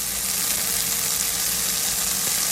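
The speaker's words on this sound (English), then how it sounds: "Here I'm sauteing my onion for about a minute" Onion sauteing in a pan gives a steady, dense sizzle and hiss that holds at an even level throughout, close and fairly loud, with no voices.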